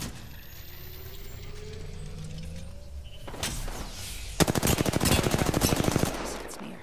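Video game gunfire starts after a quiet, humming stretch, first as a brief burst and then as a loud, rapid automatic volley of close shots lasting a couple of seconds.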